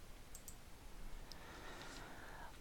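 A single light computer mouse click sounds, quiet and close, followed by a few faint soft ticks against a low hiss.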